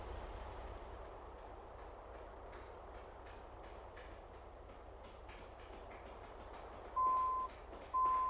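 A truck backs up in American Truck Simulator, a low engine rumble and rattling drone running throughout, with two loud, near reversing beeps sounding at the very end.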